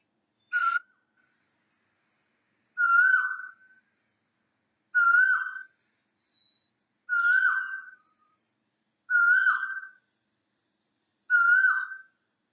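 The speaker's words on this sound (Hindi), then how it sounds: "तो कोयलिया मीठे मीठे स्वर में गा रही है।" An Asian koel sings a clear, whistled two-part call repeated six times at even intervals of about two seconds, loud and alone against silence.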